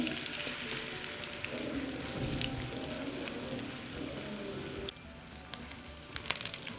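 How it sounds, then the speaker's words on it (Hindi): Potato sandwich bread frying in a pan for a quick breakfast: a steady, close sizzle of oil runs throughout, with a brief drop in level partway as the bread is pressed or turned, and a few sharp pops near the end. "एक साइड फ्राई होने के बाद अब इसकी दूसरी साइड चेंज करें ताकि दोनों साइड से ब्राउन हो जाए।"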